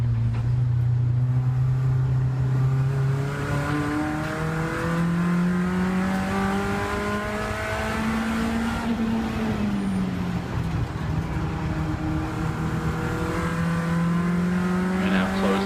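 Race cars lap the Rockingham circuit, a Porsche closing on a Golf and a Saxo, with a loud in-car engine droning and rising steadily through the gears, pitch sweeping up and dipping over a long continuous run.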